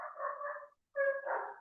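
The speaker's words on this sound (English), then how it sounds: "That's my dog, Cecil." A pet dog lets out two drawn-out, whiny bark-howls close by, one after another with a short pause between them, and no talk over them.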